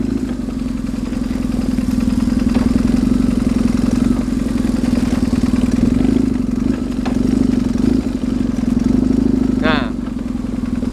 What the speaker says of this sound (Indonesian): Nah, mumpung di sini ada pertigaan, kita tes, gue putar balik ya.